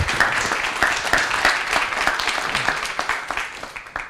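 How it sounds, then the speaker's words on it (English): An audience at a Massey College storytelling dialogue applauds for Alyssa, crisp dense clapping with distinct individual claps, gradually thinning and fading toward the end. "So a round of applause for Alyssa"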